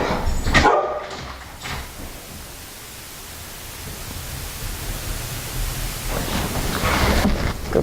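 A dog at the front door makes short barks and whimpers, loudest at the start and again near the end, over a steady broadband hiss.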